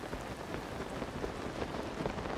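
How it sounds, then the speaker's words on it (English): Rain falls steadily in The Legend of Zelda: Tears of the Kingdom, a soft, even patter of drops hitting the ground with no voices over it. "Is this place always raining then?"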